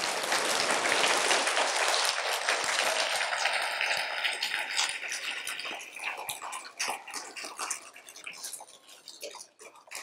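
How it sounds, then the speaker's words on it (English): Children and adults in a school audience applaud their teachers at an elementary school literacy and music program, a dense wash of clapping that is loud at first and gradually thins into scattered, uneven claps. "give them a round of applause for everything they do"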